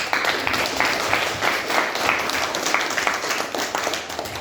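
Classroom applause for a student, many pairs of hands clapping together at close range in a steady, uneven patter that holds for several seconds.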